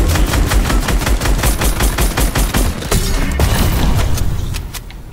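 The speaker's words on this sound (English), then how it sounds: "Keep shooting." Loud, close automatic fire in Fortnite hammers out a fast, steady stream of shots for several seconds before tapering off.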